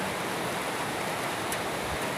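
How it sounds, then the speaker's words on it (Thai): Steady rain falls with no wind on a morning in Khemarat district, Ubon Ratchathani, a dense even hiss close by with no voices. "ฝนตกอ่ะบ่มีลมมีอย่างค่ะ"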